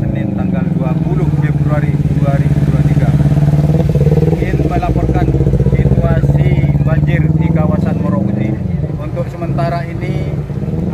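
Motorcycle engines idle and rumble steadily on a flooded road, with water splashing and clattering nearby while a voice talks over the constant engine drone.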